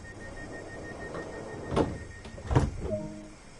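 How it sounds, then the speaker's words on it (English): Train doors opening in Train Sim World 2 at a four-coach platform on the East Coastway: two sliding whooshes with mechanical clunks, followed by a short chime, over a low steady hum. "Right, let's open the doors."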